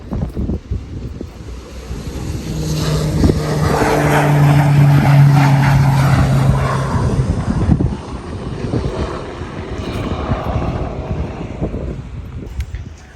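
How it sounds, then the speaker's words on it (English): Helicopters flying around near a yacht club in the Bahamas, a broad steady rotor drone with low tonal hum rising around the middle, mixed with heavy wind noise on the microphone. "Especially now with helicopters and everything flying around."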